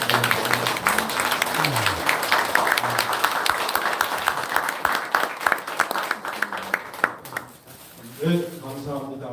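Audience at an international symposium marking a Buddhist monk's 40th memorial gives sustained, dense applause for several seconds, tapering off before a speaker's voice resumes.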